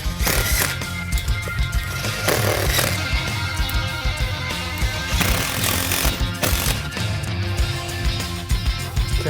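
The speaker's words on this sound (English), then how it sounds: "Moved on to the impact driver." An impact driver hammers bolts into a TV wall mount, loud rattling bursts of hammering repeating in several runs with brief pauses between them.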